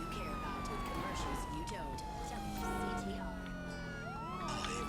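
A police siren from the video game GTA 5 wails and sweeps continuously during a chase, with overlapping siren tones and engine noise at moderate volume.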